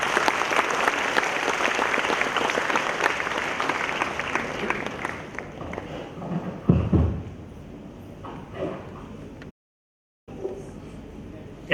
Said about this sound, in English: shall we welcome him with a big applause?